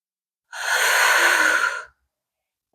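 One long, deep breath is pushed out steadily through the mouth during morning yoga stretches, close to the microphone and heard alone, lasting over a second before fading into silence.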